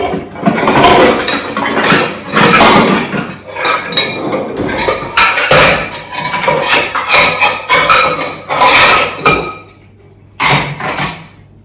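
Jackfruit pieces being loaded into two pressure cookers, one large and one small, with repeated loud metallic clanks and clinks of steel vessels, lids and utensils in an irregular burst-like rhythm, close by and with no voices.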